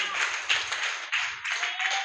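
A church congregation claps hands in a fairly steady rhythm of bright, sharp claps at moderate distance, with short gaps between bursts.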